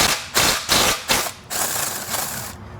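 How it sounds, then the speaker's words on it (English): A ratchet loosens 11mm intake manifold bolts on a BMW N54/N55 engine, giving several close, loud bursts of rapid clicking in short repeated strokes, then a longer continuous run. "let's go through here and start taking these 11mm bolts out one at a time"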